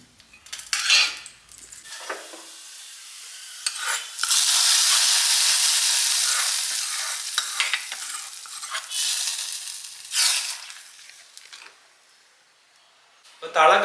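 Small onions sautéing in coconut oil for a Kerala fish curry, with a loud bright sizzle swelling and fading across several bursts as a utensil scrapes and stirs the pan, nearby voice briefly present.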